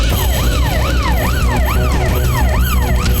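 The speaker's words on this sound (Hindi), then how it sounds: "फायर ब्रिगेड आ गई।" A fire brigade siren wails in steady rising and falling sweeps as the engine arrives, loud and continuous over low rumbling street noise, with no talk.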